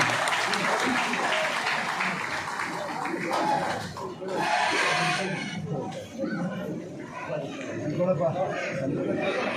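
An audience claps at a Kanakadasa Jayanti ceremony, sustained crowd applause with surging bursts and murmured chatter beneath, filling the hall without pause.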